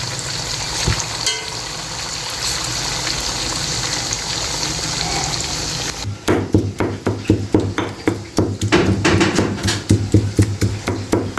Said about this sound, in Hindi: दो से 3 मिनट के लिए हम एक साइड से फ्राई करेंगे